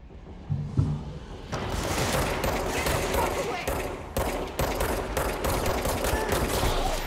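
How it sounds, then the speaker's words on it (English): Sustained gunfire in the action video game Control: a dense, loud rattle of repeated shots and impacts fills the scene almost continuously, with a faint voice briefly underneath. "Shoot these men in the face."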